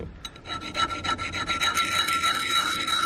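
Small sharpening stone rubbed along the edge of an old axe, a close rhythmic rasping of quick strokes repeating steadily, with no talking.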